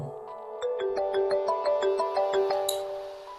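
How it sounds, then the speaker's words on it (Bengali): A mobile phone rings late at night with a bright, repeating ringtone melody, loud and close, with no other sounds. "এত রাতে আবার কে ফোন করলো?"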